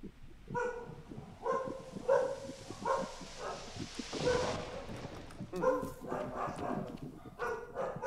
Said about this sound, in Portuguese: Esse cachorro é foda, mano.